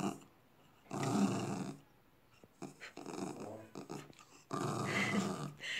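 A pet dog growls in low, rumbling bursts with breathy gaps between them, close and fairly loud, with no speech during the sounds.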